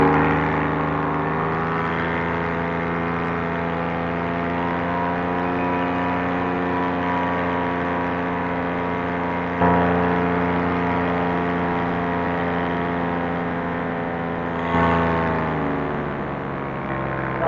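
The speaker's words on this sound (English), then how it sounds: "I like the way my motor's running." A paramotor engine runs steadily in flight, a loud buzzing drone with rich harmonics held at an even pitch throughout, dipping briefly and then picking back up.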